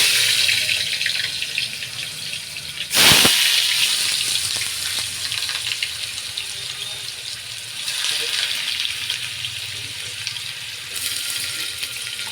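Onion tipped into hot oil with mustard seeds crackling in a home kitchen pan gives a sudden loud burst of sizzle, then a steady hiss of frying continues, with no voices.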